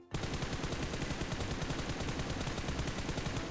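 Rapid, steady automatic gunfire in PUBG Mobile rings out loud and close in one continuous burst of evenly spaced shots, starting abruptly and lasting the full stretch with no talk over it.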